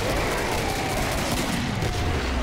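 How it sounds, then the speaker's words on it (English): A chain gun fires continuously in a competitive video game match, a dense, loud, rapid-fire roar of overlapping shots with no clear gaps, heard up close. "Hebron's almost down with that chain gun"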